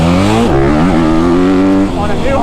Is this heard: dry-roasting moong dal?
no